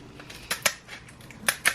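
Kitchen scissors snip through the top of a lobster tail shell, making several crisp, close clicks and crunches in a quick irregular series with no talk over them.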